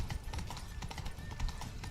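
A horse gallops in the video game Witcher 3: Blood and Wine, a fast rapid clip-clop of hooves running continuously and close under a faint background score.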